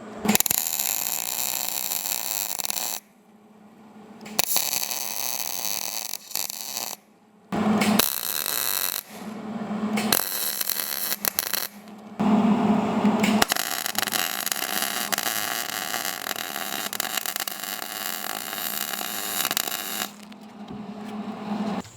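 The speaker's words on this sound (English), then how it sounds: "We'll start by welding this upper bushing to the nut, so that way we have something to push against with a press." An upper control arm bushing on a 1958 Plymouth is welded to a nut. The welder crackles and buzzes harshly in bursts of different lengths, separated by short silent gaps, with no speech.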